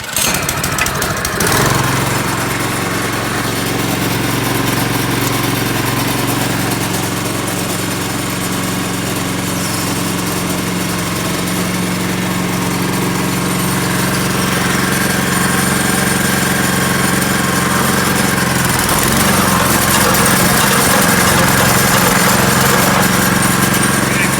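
A 24-inch two-stage snow blower engine idles loudly while warming up, a steady close rattling drone that holds throughout with a slight change in pitch late on.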